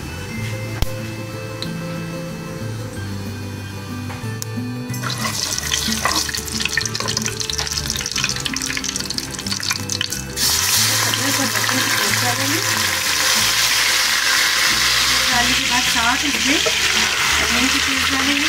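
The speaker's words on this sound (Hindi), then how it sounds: "अब ऑयल गर्म हो गया तो इसमें सबसे पहले हम ज़ीरा डालेंगे" Cumin seeds hit hot oil for Fish Karahi with rice, and a loud, steady sizzle builds and then roars for the rest of the stretch. Background music plays beneath it.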